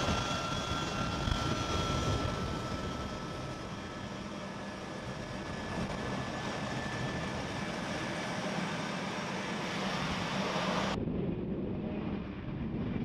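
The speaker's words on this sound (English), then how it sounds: "The giant aircraft, departed from RAF Brize Norton, can be seen flying through a valley." A US Air Force C-17 Globemaster III from the 437th Airlift Wing flying at low level through a valley in misty weather, heard as a loud, sustained jet engine roar with a whining tone that drops abruptly near the end.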